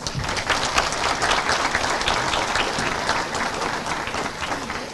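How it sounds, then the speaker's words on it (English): Sustained applause from a large audience welcoming the Vice President of India at a Human Rights Day celebration, dense steady clapping filling the whole stretch without pause. "welcome Honorable Vice President of India with a round of applause"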